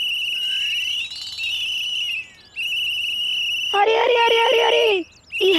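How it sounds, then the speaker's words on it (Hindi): Snoring made to sound like a high, sustained whistle, several long steady whistling tones broken by short pauses, clear and fairly loud with no speech over it. "सीटी की आवाज में खराटे काहे ले रहा है?"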